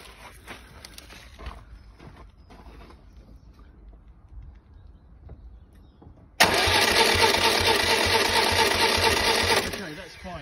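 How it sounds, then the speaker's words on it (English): A Citroen Dyane's engine catches and starts from the ignition, then settles into a loud, steady running drone that lasts about four seconds before cutting off. Quiet talk and faint handling sounds come first. "Would you like to just turn the ignition"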